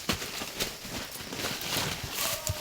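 Hooves of a ridden horse clip-clopping along a path while fetching food for pigs, a loose series of uneven thuds over outdoor background noise, fairly close, with no talk.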